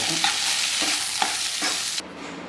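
Peanut chutney mixture fries and sizzles in a pan while a spoon stirs it in a few steady scraping strokes, close and continuous, with the frying cutting off abruptly near the end.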